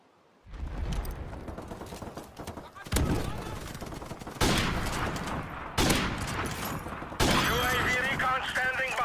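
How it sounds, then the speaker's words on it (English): A flashbang goes off in Call of Duty, followed by bursts of rifle gunfire, each loud sharp report ringing on with ringing high tones, several blasts spaced a second or so apart, close and loud. "we're going to throw a flashbang and then pop whoever got it hit with it"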